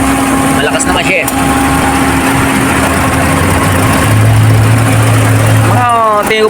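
A Toyota Vios with a Dual VVT-i engine and a leaking radiator idles steadily up close after running for a long time, its cooling fan turning. The engine gives a loud, even hum with a brief rise near the end.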